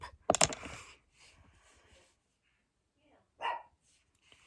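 A female dog lets out a loud, sharp bark indoors, followed by softer rustling and a second shorter bark a few seconds later.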